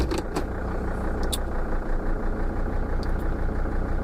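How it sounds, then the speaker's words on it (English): Mercedes Sprinter van engine running at idle, a steady low rumbling drone held close and even throughout, with a few faint clicks and no voices. "Let me start the van up."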